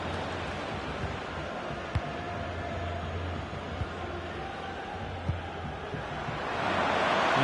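Stadium crowd noise from a FIFA 23 football match on PS5, a steady broad roar held throughout with a few soft thumps, swelling louder near the end.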